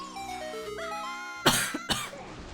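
Two sharp coughs from a person stand out over a steady game tune from a randomized Ocarina of Time playthrough, the first louder and the second following about half a second later.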